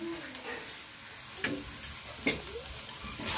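Spiced pointed gourd filling is stir-fried in a pan, giving a soft, steady sizzle broken by several scraping strokes of the spatula, close and fairly quiet.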